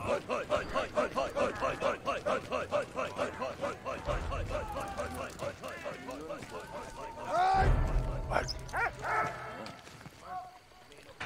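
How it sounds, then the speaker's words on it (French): A dog in a World War I video game barks in a quick, regular series of sharp yaps, fairly close, with game sounds and a voice talking over the latter part. "Le chien, on s'en fout."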